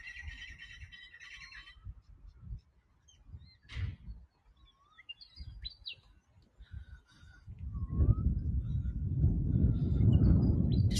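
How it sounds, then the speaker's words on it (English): A wild bird squawks and chirps in scattered calls beside a lake in the early morning. Wind gusts swell into a steady rumble over the final few seconds. "Just wondering what that bird was."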